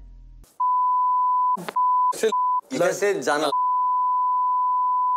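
A steady censor bleep tone, loud and continuous, runs over most of the stretch, interrupted by brief bursts of Hindi speech cutting through between beeps.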